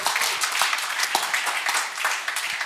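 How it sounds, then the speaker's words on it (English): Church congregation applauding during a Sunday service, a steady wash of many hands clapping close by, without speech. "Give him a big round of applause."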